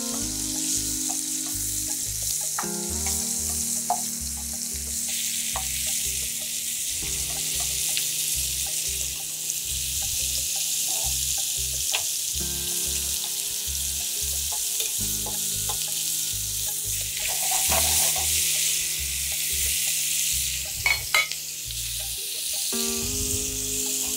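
Chicken pieces for shashlik sizzle steadily in hot oil, with stirring and turning scrapes and a brief watery splash, running continuously at close range with no voices.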